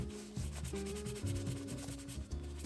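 Old Doc Martens leather boots being rubbed and scrubbed hard, with attention on the seams, giving a steady, close, continuous brushing friction that surges in uneven strokes with no talking.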